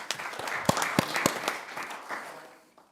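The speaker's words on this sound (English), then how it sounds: "deserves a round of applause for the hard work" Audience applause at a town Board of Aldermen meeting: a crowd's dense patter of clapping with a few louder individual claps, gradually thinning and fading out within three seconds.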